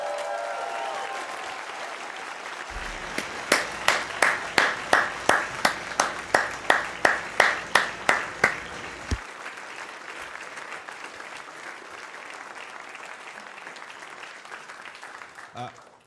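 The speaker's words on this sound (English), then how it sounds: "can we please have a massive round of applause for both of our finalists?" A crowd breaks into loud applause for two finalists after a match, swelling and fading over several seconds, following a voice and settling into quiet room tone.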